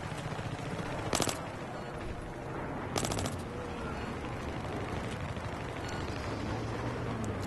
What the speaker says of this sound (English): That's why I love silence guns, so when I fire it, it doesn't give away my position.